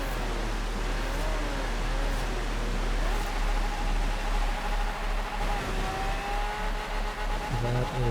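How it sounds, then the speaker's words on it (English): A car drifting in Forza Horizon 4 during a winter seasonal challenge: a steady engine drone with rising and falling revs and tire noise over a constant hiss, with no talk. "collect some drifts"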